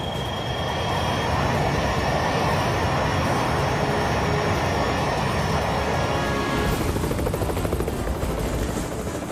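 A video game helicopter's steady rotor thrum and engine whine in Time Crisis 4 hold loud and constant throughout, with the texture shifting slightly near the end.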